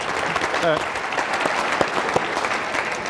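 An auditorium audience at a televised gubernatorial debate applauds steadily, a dense even wash of clapping throughout with a few sharper individual claps and a brief voice near the start.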